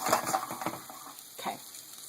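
Shrimp frying in a pan for a steak dinner, a soft, fairly faint sizzle with light scraping and clicking as pieces are moved apart, and no talking.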